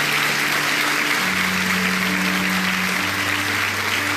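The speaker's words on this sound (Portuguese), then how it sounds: "A salva de palmas." A church congregation applauds during a sermon in a parish Eucharistic week, a steady wash of many hands clapping over a low sustained organ or keyboard tone.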